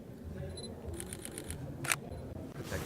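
A Sony a7R III mirrorless camera fires its shutter in a quick burst of about six soft mechanical clicks, followed by one louder single click, heard close up over a low murmur of room noise.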